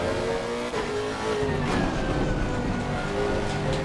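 A race car engine in Assetto Corsa roars continuously, loud and close, with pitch shifts as it changes gears and thunderous downshifts.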